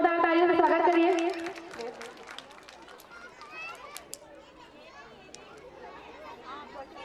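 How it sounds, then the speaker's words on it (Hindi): Audience at a school annual function breaking into applause, a short patter of clapping amid crowd chatter and children's voices, following a loud voice at the start. "जोरदार तालियों से स्वागत करिए"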